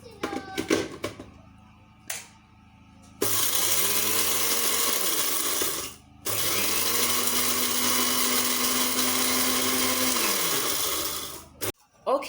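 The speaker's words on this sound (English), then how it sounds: "I'm going to blend this now with my blender" Electric blender grinding dried garlic into powder, running loud in two long bursts with a brief stop between them and a steady whirring motor tone, preceded by short handling clatter.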